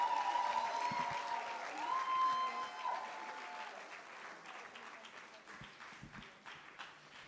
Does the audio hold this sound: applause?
yes